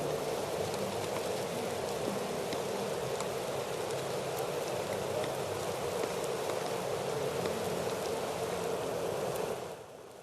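Rain pours steadily on Target Field in Minnesota during a baseball rain delay, a dense, even patter that holds throughout before dropping off sharply at the very end, with no voices.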